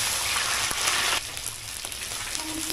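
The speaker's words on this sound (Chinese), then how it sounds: "鱼下锅里" Fish frying in hot oil in a wok alongside pork skin and fat, a loud bright hiss at first that settles into a softer steady sizzle with a few faint clinks.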